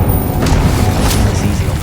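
Fire spell cast in Hogwarts Legacy, a deep booming whoosh of flame that stays loud and steady for about two seconds against the game's ambience.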